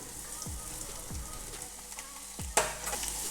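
Crushed ginger and garlic sautéing in a pan, a soft continuous sizzle with low scraping strokes of a spatula at a steady pace and a sharper clack near the end, close and fairly quiet.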